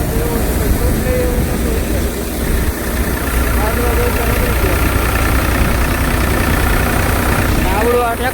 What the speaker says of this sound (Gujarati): આવડું આ ટ્રેક્ટર છે આપણું ભાઈ